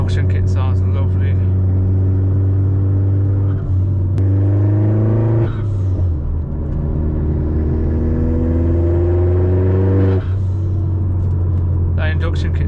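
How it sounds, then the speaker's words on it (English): Vauxhall Corsa VXR fitted with an induction kit and dump valve, heard from inside during a drive: a steady low engine drone with rising revs and gear-change drops, a sharp dump-valve whoosh near the middle, strong and close. "That induction kit sounds so good with the dump valve."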